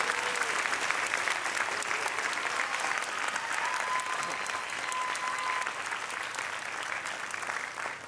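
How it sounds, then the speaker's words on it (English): A crowd of parents and pupils at a primary school sports awards ceremony gives a long, steady round of applause for coaches' award winners, dense clapping that holds evenly throughout. "Can we give them a massive round of applause?"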